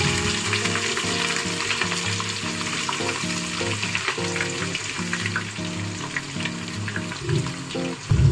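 Onions frying in hot oil for biryani, a steady close sizzle that carries on throughout with light stirring now and then.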